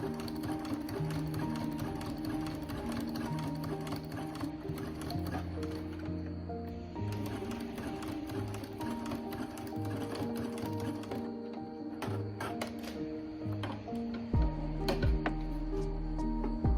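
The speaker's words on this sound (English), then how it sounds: "now we just sew it down" A sewing machine stitches down a patch of fabric on a thrifted garment, its rapid mechanical chatter running in steady bursts with brief pauses, close and clear, with no talking.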